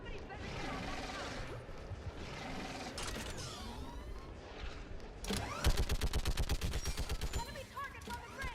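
Mounted gun fire in the sci-fi shooter Mass Effect 3, heard as a rapid, loud, evenly spaced burst of shots rising out of a dense wash of battle noise and effects.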